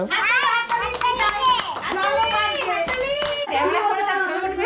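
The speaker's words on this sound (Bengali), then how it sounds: "হাততালি দাও হাততালি" Children at a village birthday celebration clap their hands in scattered claps beneath loud, continuous childlike voices talking and singing close by.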